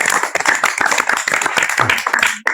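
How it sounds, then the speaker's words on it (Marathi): Schoolchildren in a classroom clap together after a girl recites a poem, a loud, dense burst of many small hands that rings steadily and stops abruptly near the end. "टाळ्या वाजवते यासाठी सगळं."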